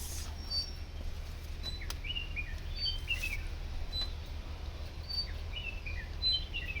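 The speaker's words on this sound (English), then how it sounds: "We observe small sound, nature, bird sounds." Small birds chirp and trill in scattered high, bright calls against a constant outdoor hum in the hills of Munnar, Kerala, with no voices.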